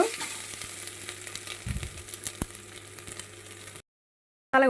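Onion paste frying in leftover egg-frying oil for an egg and potato curry; a soft, steady sizzle with scattered stirring clicks and a short clatter, ending in abrupt silence before a brief loud burst.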